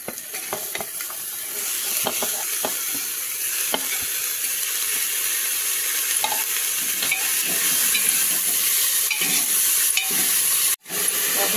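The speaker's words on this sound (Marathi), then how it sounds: "आता हे चांगलं परतून घ्यायचं बघा आपल्याला" Spinach sautéing with sliced garlic in a pan for dal palak: a continuous close sizzle with scattered soft stirring scrapes and clicks, briefly cut off near the end.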